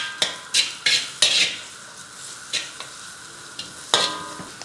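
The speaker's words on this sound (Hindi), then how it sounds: "इसको तेज़ आंच पे थोड़ा सा पकाना है ताकि इसकी रॉनेस ख़त्म हो जाए" Carrots and bell pepper are stir-fried over high heat in a pan for a garlic chicken rice dish, with a steady sizzle under repeated scraping strokes of a utensil, about eight sharp scrapes at uneven intervals, loud and close.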